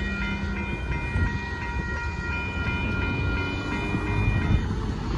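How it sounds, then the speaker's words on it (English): A northbound Union Pacific freight train of hopper cars rolls past at Dittmar Road in Austin, Texas, with a loud, continuous rumble and rail noise, plus faint sustained tonal lines. "there goes that Northbound Union Pacific copper car train plus the horn show"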